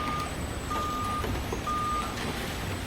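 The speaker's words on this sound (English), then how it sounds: "Trucks come in" Truck reversing at a plastic recycling plant, its steady backup beeper sounding in spaced bursts over a constant loud din of machinery and engine rumble.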